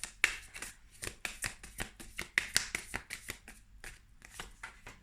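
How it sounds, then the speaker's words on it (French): Tarot cards are drawn and dropped one after another in a rapid, irregular run of crisp slaps and flicks, close and clear, with no talking. "je vais tirer toutes les cartes, on va laisser faire tomber toutes les cartes avant"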